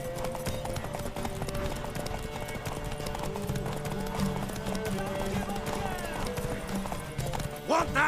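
Horse hooves clip-clop steadily through a tense exchange in The Witcher 3 video game, a rhythmic trot heard under game music and spoken dialogue.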